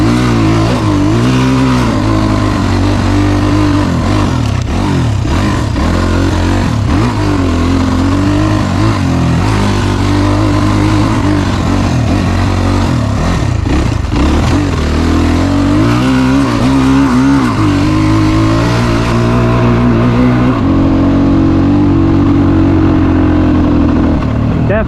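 A 2018 SSR 250S carbureted motorcycle being ridden, its engine loud and close throughout, revving up and down in repeated surges, mostly in first gear.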